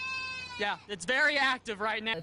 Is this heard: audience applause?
no